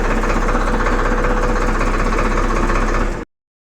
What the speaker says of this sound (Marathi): ट्रॅक्टर समोर गेलेलं आहे हे बघा हे बघा ट्रॅक्टर समोर जाईल